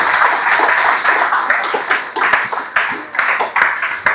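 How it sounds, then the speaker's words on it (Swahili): A church congregation claps steadily and loudly in bursts, with high ululating cries mixed into the applause throughout. "Hebu mpigie Bwana makofi na vigelegele."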